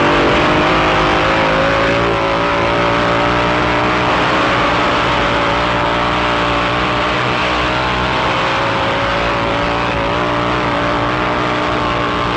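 Racing motorcycles roar at high speed coming off a banked track at about 160 mph, a loud, continuous engine howl with sustained high revs throughout and no voices.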